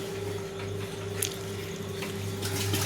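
Tap water pours steadily into a freshly washed bottle in a home kitchen, a continuous near rush with a low hum underneath and brief splashy bursts.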